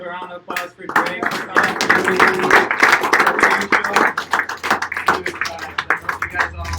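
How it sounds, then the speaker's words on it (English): Audience applause after a talk on microorganisms, a dense wash of hand claps that swells to steady volume, then thins into scattered claps toward the end, with some voices mixed in. "Let's give a round of applause for Drake."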